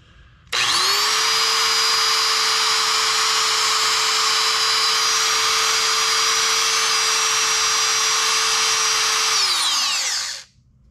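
An angle grinder spins up sharply after its motor brushes are replaced, holding a loud, steady high-pitched whine for about ten seconds before winding down, with no talking.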